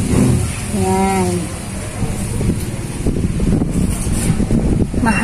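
Strong outdoor wind buffets a vegetable garden with potted plants, a loud continuous rumbling roar with gusty surges, while a voice speaks briefly near the start.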